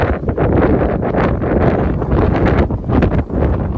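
Strong gusting wind buffets the microphone on an exposed high section of the Pacific Crest Trail in Northern California, a loud continuous low rumble that surges and dips with each gust, with no talking.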